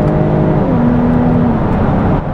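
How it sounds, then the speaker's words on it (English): A 2014 Jaguar F-Type 3.0 V6 S engine revs and roars loudly up close through its opened active exhaust, with a droning, rising tone. "The active exhaust system's opened up, and there we go."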